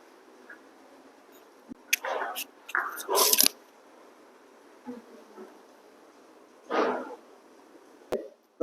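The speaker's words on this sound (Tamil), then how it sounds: "இப்போ அந்த பேக்கை நம்ம கட் பண்ணி எடுத்துடலாம்" Scissors cutting the back piece of plazo pant fabric, a few soft snipping and rustling cuts in short clusters against a quiet background, with occasional talk.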